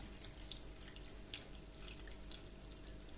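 Salted warm water poured into a jar packed with cabbage leaves for fermenting, a faint continuous trickling and splashing stream close by.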